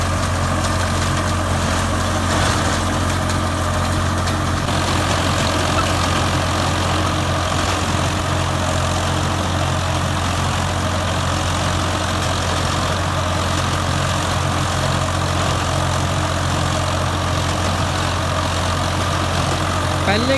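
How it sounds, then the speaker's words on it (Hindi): A Swaraj 855 tractor pulls a 7 ft Jagatjit super seeder in first low gear through a field. Its deep, steady diesel drone stays loud and constant, with a low throbbing hum throughout. "पहले के लो में ट्रैक्टर चल रहा है इस टाइम"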